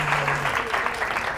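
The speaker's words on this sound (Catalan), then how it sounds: "ara t'acomiadem amb aquest aplaudiment" Sustained applause from a studio audience on a Catalan word-game TV show, a full, even roll of clapping with a brief low tone near the start.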